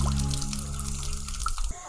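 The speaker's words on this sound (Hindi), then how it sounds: "और यहाँ एक जादुई मेडिसिनल वाटरफॉल भी है।" Water pours steadily from a medicinal waterfall inside a garden cave in Meghalaya, a continuous nearby splashing stream with low rumble, running alone for under two seconds before it briefly drops off.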